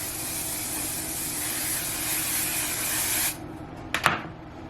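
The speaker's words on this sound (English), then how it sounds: "This is the hairspray I love, which is Joico Firm number 9." Joico Firm No. 9 hairspray sprays in one steady, close, loud hiss lasting about three seconds, then cuts off, followed by a couple of faint knocks as the can is handled.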